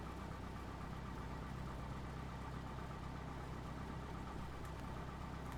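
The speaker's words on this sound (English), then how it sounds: "first I'm going to do a run-up check as well, just to make sure that the aircraft is going to produce power" A light aircraft engine runs steadily through a pre-flight run-up check, a continuous low droning hum with a constant pitch and no talk over it.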